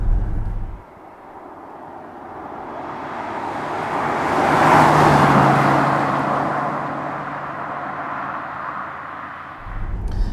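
A 740 bhp Ferrari F12 engine and exhaust rise in a loud, swelling roar under hard acceleration, building to a peak mid-pass and then easing back. No voices over it.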